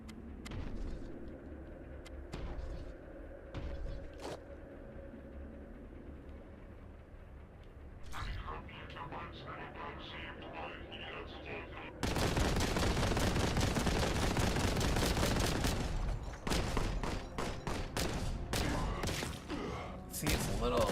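Gunfire from shooting an enemy in a video game comes in sustained rapid bursts during the last nine seconds, after a quieter stretch of game sounds and scattered thumps.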